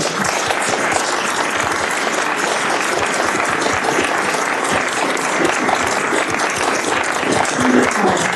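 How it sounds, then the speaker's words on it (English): Audience at a US House briefing with Richard Dawkins and Steven Pinker breaks into sustained applause, a dense, even clatter of many hands clapping close by for about eight seconds. "Please join me in a round of applause."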